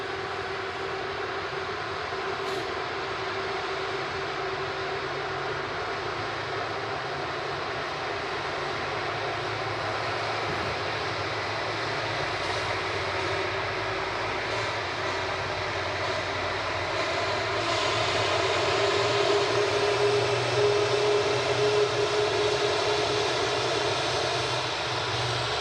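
An SAS Neo airliner pushes back at an airport, a steady, continuous jet engine roar with a low rumble that holds throughout and swells slightly louder toward the end.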